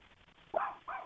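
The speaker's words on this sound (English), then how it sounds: "I hear a dog barking too." A dog barks twice in quick succession, close and fairly loud, with quiet background between the barks.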